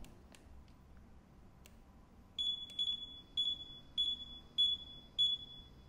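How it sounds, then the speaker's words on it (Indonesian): A series of six short, high electronic beeps at a steady rhythm from a Kingsong S22 electric unicycle, close and clear, following a few faint clicks in a quiet room. "sampai bunyi beep 4 kali"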